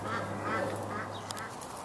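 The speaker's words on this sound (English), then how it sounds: "So here we are with chickens." Chickens loose in a small suburban town cluck and squawk in a busy, honking chatter, fairly close and continuous for a couple of seconds.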